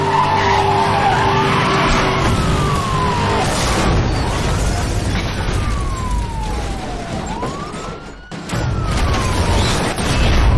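Cars skidding over spike strips during a police pursuit in Need for Speed Hot Pursuit (2010), loud tyre squeals and sliding sweeps over roaring engines, with sirens wailing through the scene.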